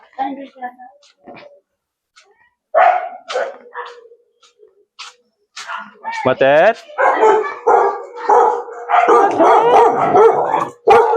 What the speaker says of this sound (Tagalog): Ah, lalaki ng aso.